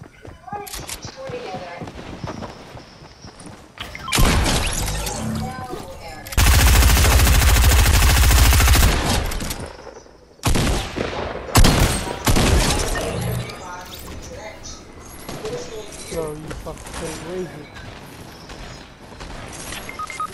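Video game gunfire rattles in loud automatic bursts, with one long sustained barrage in the middle, while players talk excitedly over the shooting.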